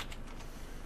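Quick, faint clatter of typing on a computer keyboard while renaming a file, a brief run of soft key taps.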